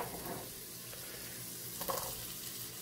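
Onions sauté in a pan as the first step of a Filipino catfish dish, nilarang na hito, giving a steady close hiss of frying under a faint stir, with no talking.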